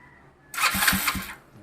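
A motorcycle electric starter with a repaired starter motor, its burnt carbon brush fixed, whirs briefly and close, with a few quick cranking pulses before the sound cuts off.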